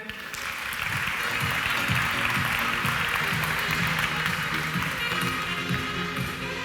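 An audience at a corporate marketing and data conference applauds to welcome a speaker, sustained dense clapping that holds at an even level throughout.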